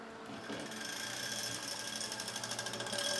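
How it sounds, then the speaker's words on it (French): A cable catches on a spinning fan in a newly built gaming PC, making a quiet, fast rhythmic ticking buzz that swells slightly over a few seconds. No one speaks. "il y a un câble qui frotte dans un ventilateur"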